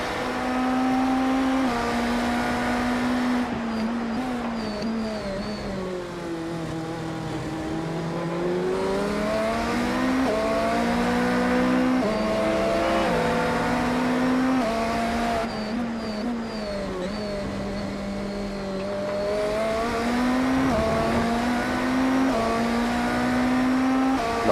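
GTP prototype race cars pull out of the pits at Sebring in iRacing, engines whining and rising and falling in pitch through gear changes, a loud, continuous, near engine note.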